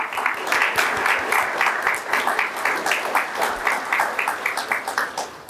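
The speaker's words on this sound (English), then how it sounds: "Let's give them a round of applause." An audience at a utility cooperative's district meeting applauds steadily, many hands clapping in a dense, even wash that carries on without a break, with no talking over it.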